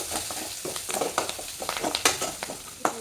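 Ingredients sautéing in a pan for mutton sukka, with a close, crackling sizzle broken by irregular scraping stir strokes for about three seconds and no voices.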